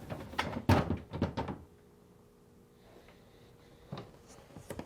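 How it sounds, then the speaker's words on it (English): Plastic drawer of a Whirlpool refrigerator freezer being slid out and lifted, several sharp knocks and scrapes in quick succession, then a quiet pause and a few softer thuds, close by with no talk. "Now, remove the top drawer by sliding it out and lifting up."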